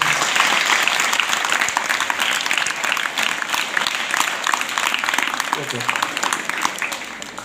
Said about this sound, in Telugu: దయచేసి ఈ కళాబృందం వారికి ఒకసారి గట్టిగా చప్పట్లు కొట్టండి